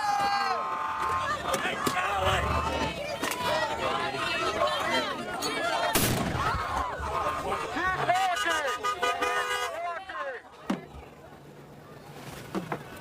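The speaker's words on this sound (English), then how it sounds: "That was the first of 2 flashbang grenades that were deployed." A flashbang grenade detonates at a street protest where vehicles push slowly through the crowd: one sharp, loud blast midway, surrounded by crowd chatter, shouting voices and car horns.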